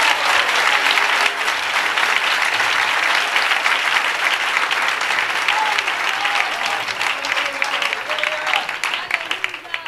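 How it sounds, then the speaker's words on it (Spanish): A congregation applauds at an evangelistic church service in Venezuela, a dense, loud, sustained clapping that fills the whole stretch and eases only slightly toward the end, with crowd voices mixed in. "Denle un aplauso al Señor."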